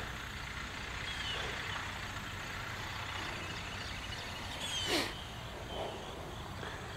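A concrete truck driving in at a shop build site to pour its load, a steady low diesel rumble at a moderate distance, with a brief hiss or squeal near the five-second mark.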